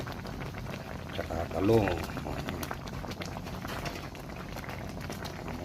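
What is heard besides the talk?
tilapia boiling in a pot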